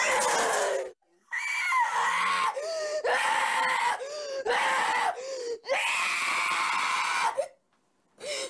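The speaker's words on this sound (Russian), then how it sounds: "Ты кричишь всю ночь!" Child screaming loudly in long, repeated wailing bursts with short gaps between them, sustained and close, in a heated argument at home over a computer ban.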